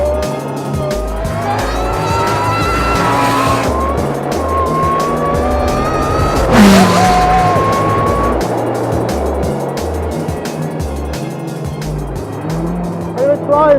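An Ariel Atom 300 sports car races hard, its engine loud and close with rising and falling revs, tire squeal, and a sharp skid in the middle, while someone talks over it.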